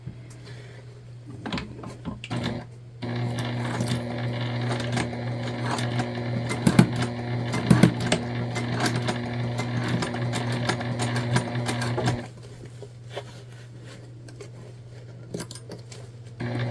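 A sewing machine runs steadily for about nine seconds, stitching a quarter-inch seam on a fabric book bag tote, with a few sharp clicks mid-run and a quieter hum before and after.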